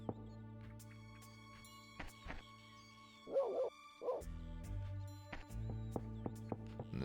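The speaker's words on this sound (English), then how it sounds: "there's always a dog barking somewhere in the distance" A dog barks a few times in the distance in the Shenmue video game, short muffled yips over a steady tonal game ambience with clicking interface sounds.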